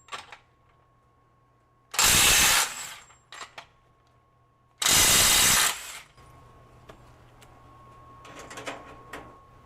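A Metabo SSW 18 LTX 800 BL cordless 1/2-inch mid-torque impact wrench breaks bolts free in two loud hammering bursts about a second each, with short clicks and handling noises between them, heard close up.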